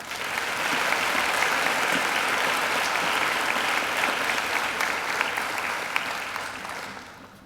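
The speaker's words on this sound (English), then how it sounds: "And I think Joshua deserves another great round of applause too" A graduation ceremony audience gives a warm, full round of applause, steady dense clapping from a large hall crowd that carries on for several seconds before fading out at the end.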